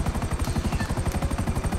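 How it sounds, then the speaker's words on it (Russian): Helicopter in the video game GTA 5, a loud, close, rapid rotor chop thumping steadily throughout. "давай на вертолет сейчас беремся"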